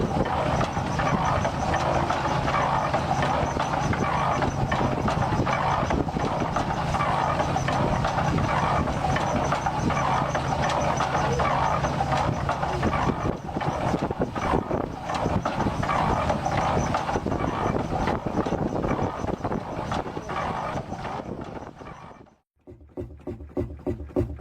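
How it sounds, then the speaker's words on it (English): A steam-powered Keystone Driller, an early well drilling machine from the Keystone Driller Company, runs at a steam and gas engine show with a steady, loud mechanical chugging and clatter that continues for about 22 seconds before cutting off abruptly. "The Keystone Driller, built by the Keystone Driller Company, is a steam-powered early well drilling machine"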